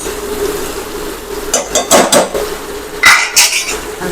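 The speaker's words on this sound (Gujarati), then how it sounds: "તો હવે આપણે તેમાં ટામેટા મરચાં નાખી દઈશું." Chopped tomatoes and chillies tip into a pan of cooked ginger garlic paste for an aloo sabzi, bringing a few loud metallic clanks and scrapes from a spoon against the pan over a low sizzle.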